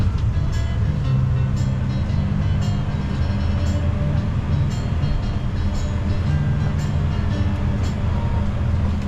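A tourist train running through the Three Cities toward Cospicua rumbles steadily along with a continuous low roar and faint periodic clicks from the wheels, no voices.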